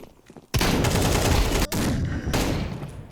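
Rapid automatic gunfire from the weapon nicknamed Gagao in the video game CS2, a loud sustained burst with a brief break midway before firing resumes.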